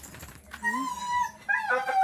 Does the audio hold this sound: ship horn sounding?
no